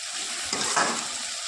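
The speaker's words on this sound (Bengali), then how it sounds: "পেঁয়াজটা অনেকটাই ভাজা ভাজা হয়ে এসেছে।" Chopped onions fry in hot oil in a pan, a soft, continuous sizzling hiss that swells briefly midway as they are stirred.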